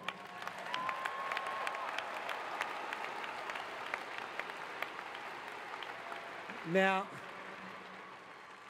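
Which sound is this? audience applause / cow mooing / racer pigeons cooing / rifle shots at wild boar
audience applause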